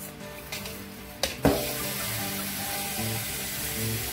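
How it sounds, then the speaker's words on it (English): Tap water rushes steadily into a pot to wash rice, following a couple of brief clunks, and the flow continues as a constant close hiss to the end. "we need to wash the rice first and we need to put the drinking water there"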